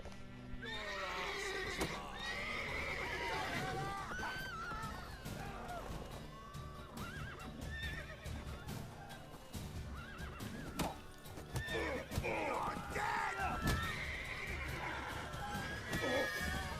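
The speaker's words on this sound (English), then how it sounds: "Whoa there, Roach" Horses neigh and whinny repeatedly over clip-clopping hooves and game effects in The Witcher 3: Wild Hunt, loud and busy throughout, with no speech.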